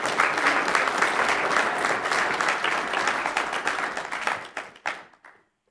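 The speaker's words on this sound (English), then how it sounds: "let's give a warm round of applause" Council meeting audience applauding an award recipient, steady dense clapping that fills the room for several seconds, then thins to a few scattered claps and stops.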